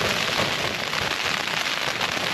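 Steady, dense rain drums on a tent during wet, windy wild camping with a packraft, a continuous close hiss and patter of drops with no talk.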